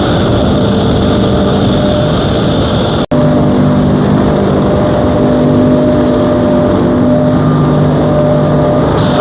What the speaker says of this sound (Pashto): دا چې دی دا د واشنګ ماشین دی